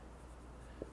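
Handwriting an answer during a scientific notation lesson, a faint pen or marker stroke with a single soft scratch near the end over a quiet steady background hum.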